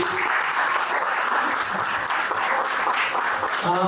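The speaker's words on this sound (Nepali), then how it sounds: "एउटा जोरदार ताली हाम्रो शिक्षकहरूको लागि प्लिज" Students applaud their teachers at a school welcome and farewell programme, a dense, steady roar of many hands clapping at once that fills the whole stretch at a constant loud level.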